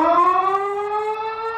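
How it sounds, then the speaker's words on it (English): St. Louis outdoor warning siren, a loud steady wail with a slowly falling pitch that sustains throughout, heard alone without voices. "a spotlight pointed on the city's outdoor warning sirens"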